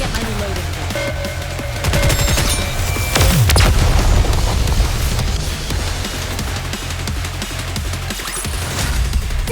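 Sniper and gun fire in the video game Nikke: loud, dense bursts of shots and deep booms build to a heavy blast near the middle, then rapid fire keeps going as in-game voices speak over it.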